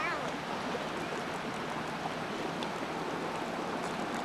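Hot water and steam hiss steadily from a geyser area in the Montana–Wyoming region, a constant broadband rush at moderate distance with no distinct breaks.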